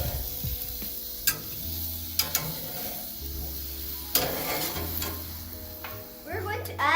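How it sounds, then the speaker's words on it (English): Vegetable skewers with pineapple sizzling on a grill, a steady close hiss of frying broken by a few sharp clicks and scrapes as they are handled, with low hums coming and going underneath. "We grilled the skewers for 16 minutes"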